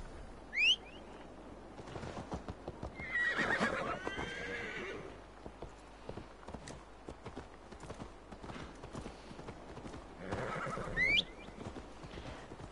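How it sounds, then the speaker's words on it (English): In the game Assassin's Creed Valhalla, a horse whinnies twice at moderate volume, with hooves clip-clopping quietly and steadily underneath between the calls. "Horse."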